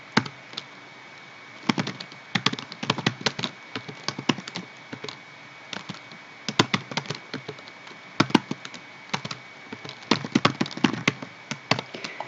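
Someone types a title into a PowerPoint slide on a computer keyboard, producing irregular bursts of crisp, close key clicks with short pauses between the flurries, and no talk.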